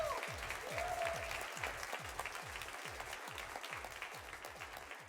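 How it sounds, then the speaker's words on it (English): Audience at a high school college signing in Weslaco breaks into sustained applause, dense rapid clapping from a crowd filling the room steadily with a faint voice or two underneath. "Big round of applause for Weslaco High School."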